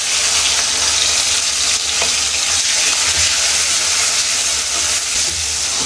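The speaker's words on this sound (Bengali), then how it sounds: "আমি আগে টমেটো দিই তেলে" Tomatoes frying in hot oil for chicken curry, a loud, continuous hissing sizzle that stays close and unbroken throughout, with no talk.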